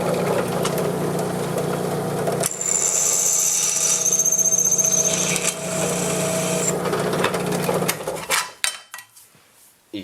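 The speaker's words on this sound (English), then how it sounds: "I have a drill press." A steady, loud mechanical whine of a drill press boring into a hard drive part, with a high-pitched cutting screech in the middle, winding down near the end.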